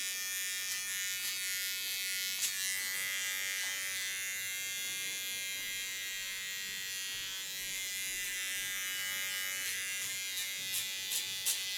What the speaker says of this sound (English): Take my fine clipper, clean the contour line